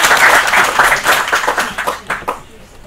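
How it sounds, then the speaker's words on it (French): An audience applauding at a conference on sport and the integration of migrants and refugees in Europe, a loud, dense burst of clapping that thins into scattered claps as it fades. "on peut applaudir Nathalie"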